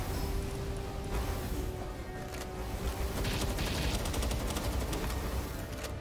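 Rapid automatic gunfire from a gun in the video game Palworld runs as a continuous, fairly quiet burst of shots for about six seconds, with no voices.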